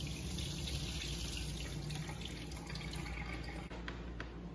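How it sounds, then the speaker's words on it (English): Water from blended carrots draining through a kitchen strainer, a steady close trickling and splashing rush that runs continuously, with a few brief drips and clinks near the end. "you pour it into a strainer, strain the water out"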